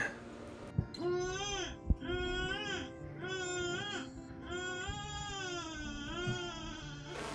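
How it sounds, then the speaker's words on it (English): A newborn baby cries out in the woods, a steady run of wavering wails broken by short gasping pauses, fairly close and loud with a couple of sharp knocks between cries. "It was the sound of a newborn baby crying."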